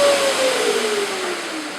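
A power sander working over Osmo water-based wood filler whines loudly up close, then its motor pitch slides steadily downward as it winds down, with no talking.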